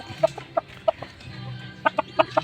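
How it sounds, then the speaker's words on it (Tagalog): A Kaber chicken clucking in a series of short, sharp calls, a few spaced notes followed by a quicker burst, close and fairly loud. "ito na yung kaber na manok"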